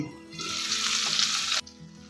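Shrimp for a shrimp dopiaza frying in hot oil in an uncovered pan, a loud, close, steady sizzling hiss that swells for about a second and a half and then cuts off abruptly, with no talking.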